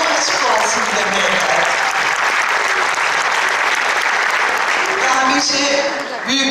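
Sustained, loud applause from an audience at an award ceremony honouring actress Hülya Koçyiğit, a steady dense clapping that fills the whole stretch and tapers slightly at the end.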